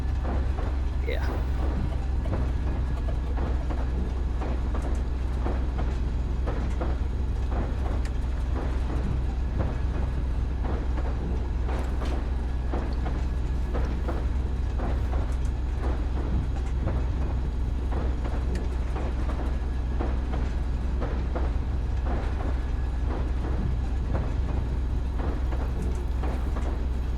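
A train rolls along steadily in the survival video game Rust, a continuous low rumble with rhythmic clacking throughout while someone talks over it.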